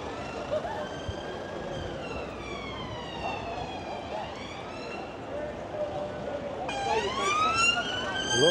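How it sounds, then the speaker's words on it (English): Wailing police sirens sound during a street protest in Blackpool, rising and falling at a moderate distance, then a louder siren cuts in near the end, with people talking underneath. "I can hear sirens, so."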